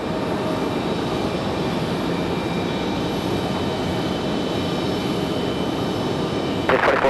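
A jet airliner taking off from a runway at Raleigh-Durham International Airport, a steady loud broadband engine roar that fills the whole stretch, with a brief rattling burst near the end and no talking.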